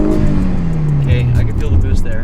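A Subaru BRZ engine with an HKS GT2 supercharger, making 300 horsepower, revs up loudly, its pitch sweeping down and back, with a voice talking over it.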